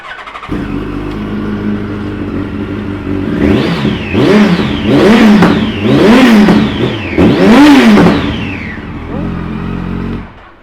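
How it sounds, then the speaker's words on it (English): A warm 2008 Yamaha FZ1S motorcycle fitted with a Viper exhaust idles loudly nearby, then rises through four quick throttle blips, each with a rising and falling roar, before it settles back to a steady idle. "We'll give it a start for you. It sounds well."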